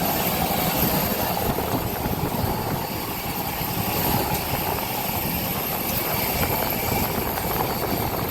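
Steady, loud engine drone and whine from a 15-year-old Jetstar Airbus A320 at the airport, a continuous broadband roar holding even for the whole stretch with no talk.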